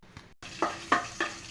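Chana dal fries in oil in a pan, with a soft sizzle and three or four quick scraping stirs in a steady rhythm, faint and close.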